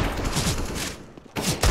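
Dense gunfire from a CS:GO competitive match, a rapid volley of shots crackling across the whole range, dropping briefly before a second loud burst returns near the end.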